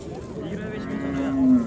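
A cow at a livestock market in Chust gives a single low moo that swells louder toward its end, heard close and alone.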